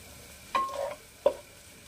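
Paneer, mushroom and potato are stirred in a pan: two distinct scraping strokes of a spoon against the pan over a faint background sizzle, close and brief, separated by a short pause.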